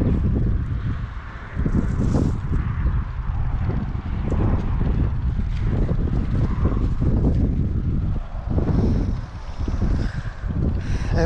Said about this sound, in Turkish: akşam oluyor rüzgar çıkıyor arkadaşlar